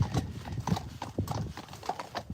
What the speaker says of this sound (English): the beautiful sound of these two on the road